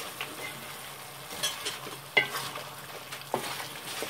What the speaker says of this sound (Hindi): अब इसको थोड़ा पका रहे हैं, मिक्स कर रहे हैं.